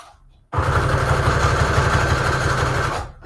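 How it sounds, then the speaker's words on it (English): A sewing machine stitches along the bottom edge of a junk journal collage, running loud and steady for about two and a half seconds with a rapid even motor buzz and needle clatter, then stopping. "I'm going to sew along the bottom."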